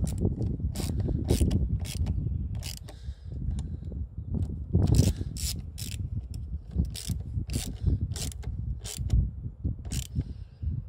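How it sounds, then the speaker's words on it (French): A ratchet tightening the battery terminal connectors on a Ford Focus, rapid repeated clicking of the pawl in steady bursts up close, with mechanical clatter between strokes and no talking. "Maintenant que j'ai reconnecté les connecteurs de ma batterie, je peux resserrer."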